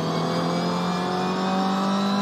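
Toyota GR86 engine in the iRacing sim on the Laguna Seca circuit, a steady, loud, smooth whine held at near-constant pitch with a strong tonal hum, heard alone without talk.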